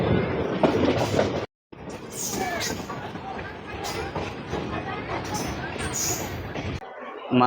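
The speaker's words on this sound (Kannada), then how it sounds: "ಮೈಸೂರು ತಾಳಗುಪ್ಪ ಇಂಟರ್ಸಿಟಿ ಎಕ್ಸ್ಪ್ರೆಸ್ ಈಗ ಕಡೂರು ಜಂಕ್ಷನಿಗೆ ಬಂದತ್ರಿ" A Mysore–Talaguppa Intercity Express train pulling into Kadur Junction, with a steady rumble of wheels and rail noise and faint squeals, loud and close, while station crowd chatter runs underneath and briefly cuts out.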